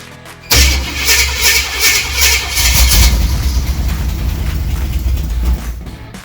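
1978 Jeep J10/J20 engine being started after gas is poured into the carburetor, a loud abrupt catch followed by a rough revving rumble that settles into a steady running drone.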